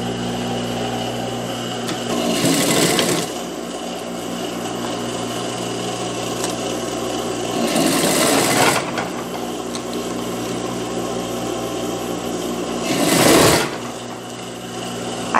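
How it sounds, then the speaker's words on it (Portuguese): A sewing machine stitches a child's dress, a loud, close, steady motor hum with a fast needle chatter that swells into brief, busier bursts roughly every five seconds. "E vou vir passando a costura."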